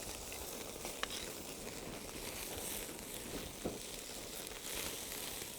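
Bone marrow steak sears in a hot pan, giving a steady, moderately loud sizzle with a few brief pops and crackles, and no talking.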